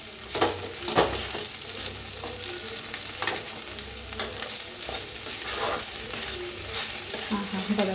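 Okra fried with a roasted spice masala hisses steadily in the pan while a spoon stirs it, giving repeated soft scrapes and knocks over the continuous sizzle.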